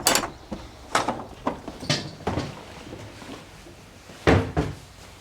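An original Jacobean wooden door in a British castle apartment entrance opens with a series of knocks, creaks and latch clunks spread over several seconds, ending in a louder double thud near the close; no one speaks.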